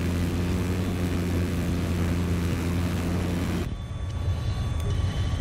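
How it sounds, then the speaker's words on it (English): Aircraft engines in the video game Battlefield 4 during a Silk Road conquest match: a steady, loud droning roar that drops abruptly to a thinner, quieter hum partway through, with no talk. "I just like shooting down airplanes."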